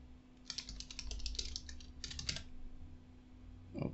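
A computer keyboard is tapped in two quick bursts as a password goes in, crisp close keystrokes with a short pause between runs, then quiet.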